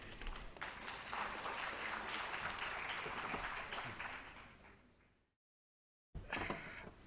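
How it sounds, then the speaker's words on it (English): Round of applause from a conference audience, steady and moderately distant, fading out before a brief silence and then resuming faintly. "Please have a round of applause"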